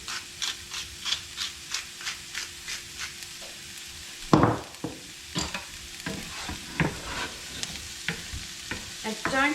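Meat browning in a frying pan for a sea shepherd's pie, heard as a soft crackling sizzle under repeated rhythmic scraping and stirring strokes, fairly quiet and close, with no talking.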